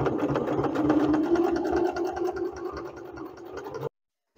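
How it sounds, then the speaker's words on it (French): Sewing machine running steadily while stitching a seam along trousers, a rapid, even mechanical chatter close by that continues for nearly four seconds and then stops abruptly, with no talk. "Donc couture tout le long, point d'arrêt, début et fin."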